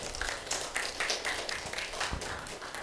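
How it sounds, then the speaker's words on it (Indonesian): A university class gives a round of applause for a presenting group, dense steady clapping from many hands in a room, lasting a few seconds without a break. "Oke, beri aplaus buat kelompok 3."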